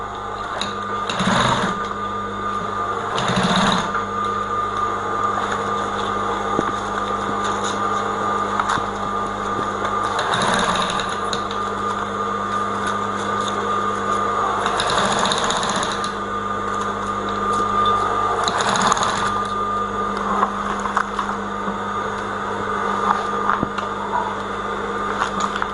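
A sewing machine stitches down pleated fabric for a base, running in steady bursts with brief pauses between runs, close and fairly loud throughout.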